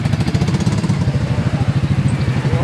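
Small engines of golf carts chugging past near ruins in Cancun, Mexico, a loud, close, rhythmic motor putter that runs continuously with no talking.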